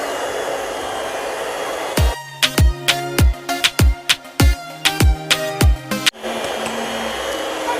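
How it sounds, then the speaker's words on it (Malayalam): An electric mixer beats batter for a cream cake, its motor whining loudly up close in a string of short, repeated bursts, with steady background hiss before and after. "ഇനി നമുക്കൊന്ന് ബീറ്റ് ചെയ്യാം"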